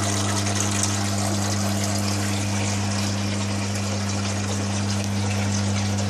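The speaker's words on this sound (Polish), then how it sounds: "słychać jak do zbiornika wpada woda" Water rushes steadily and continuously into a washing machine tank, layered over a low, constant mechanical hum. Nobody speaks.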